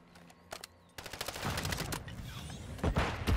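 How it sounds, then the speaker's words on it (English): Gunfire in the video game Modern Warfare 3: a few scattered shots, then dense rapid bursts with sharp cracks, louder toward the end, with no talk over it. "I don't know what's a real gunshot and what's not."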